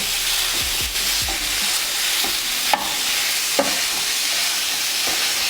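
Ground pork frying and being broken up with a wooden spoon in a new pan, a loud steady sizzle with occasional scraping knocks and clacks of the spoon, no talking.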